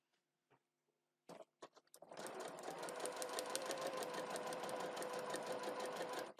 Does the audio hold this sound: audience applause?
no